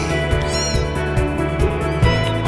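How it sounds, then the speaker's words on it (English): Newborn kittens abandoned in a neighborhood mew in high, thin, overlapping cries, several tiny voices calling continuously at close range. "Those are like newborn kittens"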